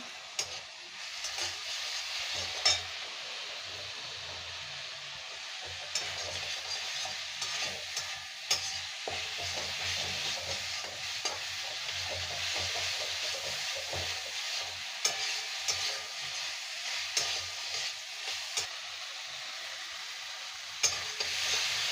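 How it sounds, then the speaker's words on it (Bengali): Prawns stir-fry with spices in a pan for a village-style Bengali shrimp and greens dish. A quiet, steady hiss of frying runs under repeated clicks and scrapes of a spatula stirring. No one speaks. "বন্ধুরা দেখেন ভালো করে কষে নিয়েছি"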